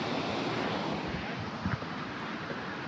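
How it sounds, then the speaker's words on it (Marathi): A waterfall at Shivdav roars steadily from some distance, a dense, even rush of falling water with no voices over it. "हा आवाज येतोय धबधब्याचा."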